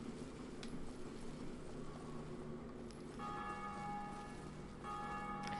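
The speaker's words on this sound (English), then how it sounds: "I think you hear that whenever somebody rings a bell." A bell rings in Dark Souls Remastered, sustained tolling tones that sound briefly, fade, then return, over a low constant ambient rumble with no speech.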